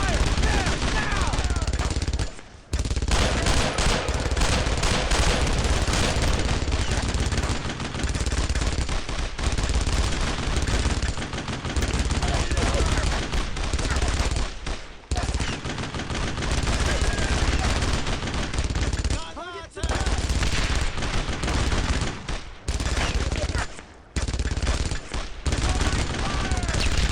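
Heavy, continuous gunfire from rifles and machine guns in the Brothers in Arms Road to Hill 30 game, loud and near, with overlapping bursts and a few short pauses, while soldiers shout underneath.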